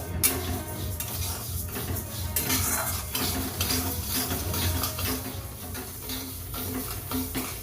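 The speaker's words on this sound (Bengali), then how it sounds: "মুগের ডালটাও শুকনো খোলায় খুব ভালো করে ভেজে নেব।" Moong dal dry-roasting in a wok with no oil, a spoon scraping and stirring steadily against the metal with rattling clinks and a faint crackle, continuous and close throughout.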